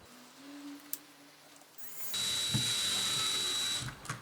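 An electric screwdriver tightening screws on a Game Boy case, whirring in short runs with a steady high whine for a couple of seconds in the second half, close and fairly quiet, with no talking.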